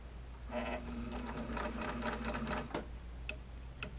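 A home sewing machine stitches along the edge of a bra, a soft rapid mechanical whirring and ticking that runs steadily for about two seconds before stopping, then a few faint clicks.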